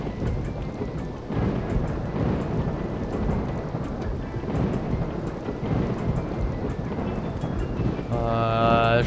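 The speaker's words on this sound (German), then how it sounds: "Schade, dass es jetzt tagsüber gewittert hat." Rain and rolling thunder from a thunderstorm in the video game RollerCoaster Tycoon 3, a steady dense roar with repeated sharp crackles, and a brief tonal game sound near the end.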